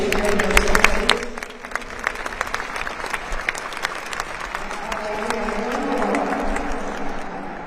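An audience applauds World War II veterans at a Connecticut tribute event, close crisp claps rising into a steady round of applause, with a few voices and cheers mixed in.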